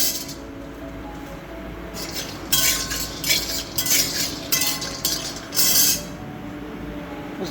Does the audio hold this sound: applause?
no